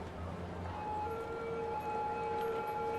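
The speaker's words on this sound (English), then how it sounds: "God, the sirens drive you freaking" Warbling emergency sirens from the city-building game Cities Skylines wail quietly behind ambient game sounds, sustained tones shifting in pitch across the short stretch.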